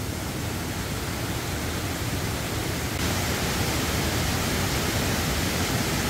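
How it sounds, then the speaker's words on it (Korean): Steady, dense rush of falling water from a small waterfall in a rocky mountain valley stream at Yumyeongsan, Gapyeong, constant and fairly close, with a slight rise in level midway and no voices. "폭포예요, 저기."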